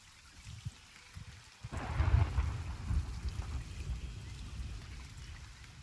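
Heavy rain with rumbling thunder in the pirate sailing game Sea of Thieves, a steady downpour swelling louder after a brief lull, with deep low rolls of thunder near and continuous.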